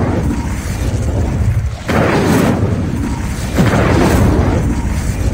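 Incendio fire spell blasting in the game Hogwarts Legacy, loud roaring whooshes of flame, two distinct surges over a constant rumbling background.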